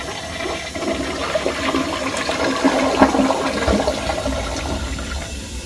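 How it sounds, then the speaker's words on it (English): A Kohler Ingenium toilet running its bowl rinse, a steady close rushing and gurgling of water that swirls and churns for several seconds without letup. "Let's have a look at bowl rinse."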